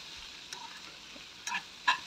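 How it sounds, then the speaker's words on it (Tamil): Grated garlic and vegetables sautéing in a pan over a medium flame for a poriyal, a faint steady sizzle broken by a few short stirring scrapes near the end. "2 நிமிஷம் போல் நல்லா வதக்கி விடலாம்."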